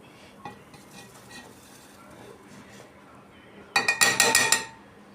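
Flour being stirred into boiling water for papad dough, with quiet stirring at first, then a close, loud burst of rapid scraping and clinking of a utensil against the pot lasting about a second.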